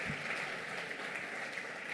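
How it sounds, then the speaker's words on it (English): An audience claps after a fashion show at a WOW2019 event in Bengaluru, a steady, moderately faint wash of applause with no talk. "a huge round of applause, ladies and gentlemen"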